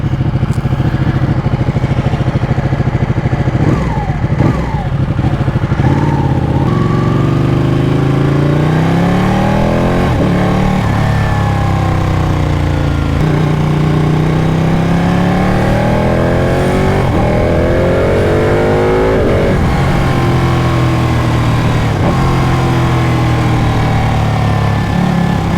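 Ducati Panigale 1199 motorcycle ridden on the road, its loud engine rising and falling repeatedly as the rider rolls on and off the throttle, steady exhaust roar close by throughout.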